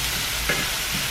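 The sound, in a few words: shrimp and mushrooms stirred while frying in pan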